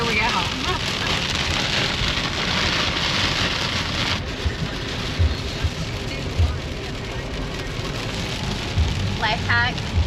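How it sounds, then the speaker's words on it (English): Heavy rain from a thunderstorm pours steadily onto a vehicle driving on a freeway, a constant loud wash of drops and road noise, with brief low thumps and a short voice near the end. "And it is thunder, lightning, wind, rain."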